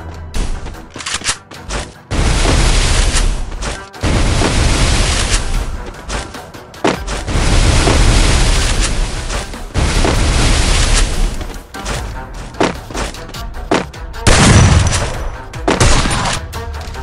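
Rapid bursts of gunfire and booming blasts from a mobile shooter game played on an emulator, loud and dense, arriving in repeated volleys separated by brief quiet gaps.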